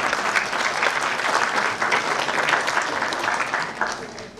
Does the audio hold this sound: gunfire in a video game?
no